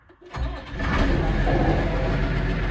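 A John Deere 2090 tractor engine cranks and fires on a mild spring morning. It starts after a short crank and settles into a steady, loud, close idle.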